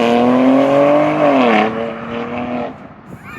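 A 2025 BMW X4M in Toronto Red revs its exhaust, a loud, close engine tone that climbs, wavers and falls before cutting to a quieter burble and a final pop.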